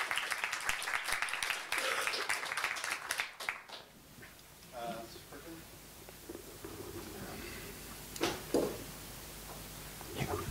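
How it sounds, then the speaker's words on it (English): Audience applause at a climate talk in Stockholm, a dense burst of clapping for about four seconds that then fades into quiet room sounds and brief murmuring. "let's give them a round of applause"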